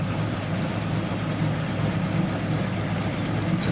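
A 1971 Chevrolet Nova SS with a mildly built 454 V8 idles steadily at close range, a constant dense rumble with no speech over it.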